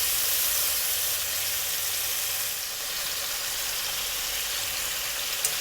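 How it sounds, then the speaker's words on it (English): Prawns frying in a pan for Malaysian tamarind Assam prawns, giving a steady, dense sizzle that stays loud and even throughout with no talking. "You'll fry them approximately 2 minutes on each side until done"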